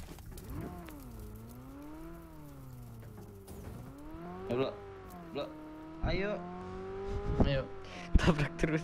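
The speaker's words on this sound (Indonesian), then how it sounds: "Ini ada mobil." A car driven in the mobile battle royale game PUBG Mobile, its engine droning and rising and falling in pitch with revving and sharp accelerations near the end, under players chattering over it.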